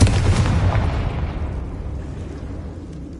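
A Confringo blasting spell explodes in Hogwarts Legacy with one loud, booming burst that rumbles and fades away over a few seconds.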